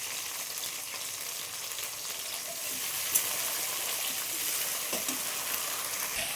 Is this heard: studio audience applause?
no